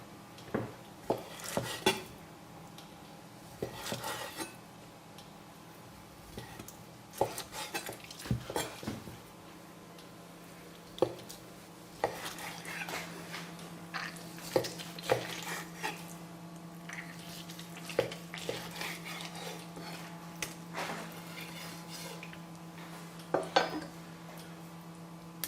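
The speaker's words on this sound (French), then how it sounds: "On va tronçonner maintenant notre langue." Cooked beef tongue being cut into pieces with a knife and handled in a pot for a Madeira sauce dish, with repeated sharp clinks and taps of utensils against cookware spread irregularly across a long stretch, close and fairly quiet.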